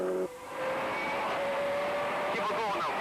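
WRC rally cars at a 2003 Cork 20 International Rally stage, a sustained engine roar holding steady after an abrupt start, with rising revs near the end.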